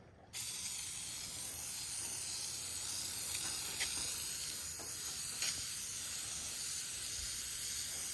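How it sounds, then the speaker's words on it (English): A steady spray of paint stripper onto wood hisses close up, with a few short bursts and faint clicks of the trigger over a quiet background. "Okay, I'm gonna spray this all on,"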